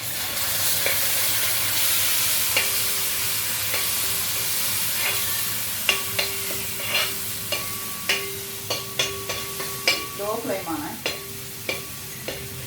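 Chili powder frying in a pan over a low flame for a fish curry, a steady soft sizzle with a run of sharp spoon taps and scrapes against the pan growing more frequent toward the end, close and clear.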